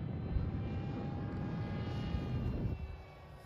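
A 3D-printed RC flying wing passes overhead at half throttle, its electric motor giving a steady broadband whir with thin whining tones that holds for a few seconds and then drops away near the end.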